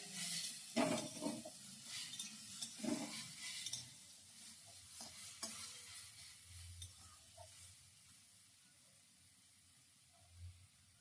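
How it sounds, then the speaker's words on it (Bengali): Vegetarian sandwich filling frying in a pan, a quiet sizzle broken by a few spoon scrapes and stirs early on, then settling into a faint, steady hiss. "এরপর আমি একটু ভেজে নিচ্ছি"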